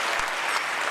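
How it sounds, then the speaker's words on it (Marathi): An audience at a kirtan gives loud, dense applause for speaker Rameshwar Maharaj Shastri, with many hands clapping at once in a short, continuous burst. "एकदा जोरदार टाळ्या वाजवा महाराजांसाठी."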